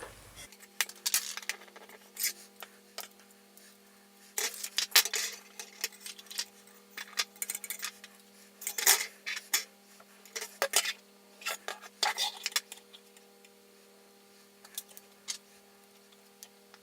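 Small metal screws being driven and tools clicking while motors are fitted onto a Scarab Knife drone frame: scattered light ticks, taps and short scraping bursts in irregular clusters over a steady faint electrical hum, close and quiet with no talk.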